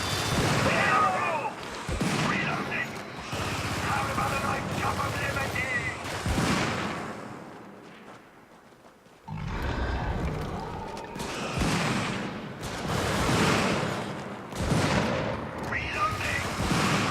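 A high-powered anti-tank emplacement in a strategy video game fires repeated heavy booming shots with crackling impacts, loud and dense, with a brief lull midway.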